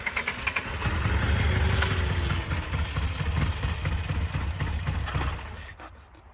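The low, rumbling engine of a 1984 Subaru Brat, run after sitting for 10 years with the fuel pump module bypassed, idles steadily with a rough, uneven chug, then cuts out near the end, leaving quiet.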